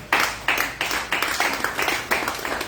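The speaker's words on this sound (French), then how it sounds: "Acclamons le Seigneur." A church congregation claps in praise, a steady rhythmic beat of many hands, loud and close, with no talk over it.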